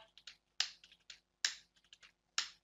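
Keys clack on a computer keyboard while a router is being configured over a console line: a quick run of close, crisp clicks with three sharper, louder strikes among them, and no voice.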